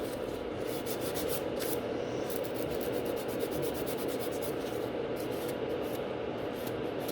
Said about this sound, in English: you can kind of feel it underneath of your file if you're filing on the natural nail or you're filing on the product